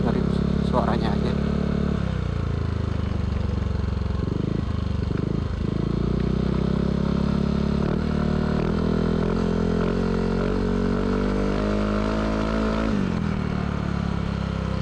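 A Yamaha Aerox scooter with a K'RACE standard racing exhaust idles and revs with a deep, rounded, bassy drone, rising and falling over about fifteen seconds while someone talks over it.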